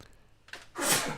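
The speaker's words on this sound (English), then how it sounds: "Did you say bless you before I sneeze?" A single sudden sneeze bursts out near the end after a quiet, breathy lead-in, close and fairly loud in an indoor podcast setting.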